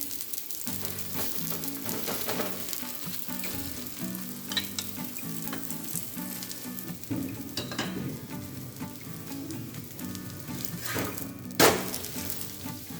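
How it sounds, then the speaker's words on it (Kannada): Ragi roti cooking in oil on a pan, a continuous close frying crackle and sizzle with small pops and one sharp scrape or clack near the end. "ಇದಕ್ಕೆ ಚೆನ್ನಾಗಿ ಎಣ್ಣೆ ಹಾಕಿ ಬೇಯಿಸಿದ್ರೆ ಚೆನ್ನಾಗಿರುತ್ತೆ"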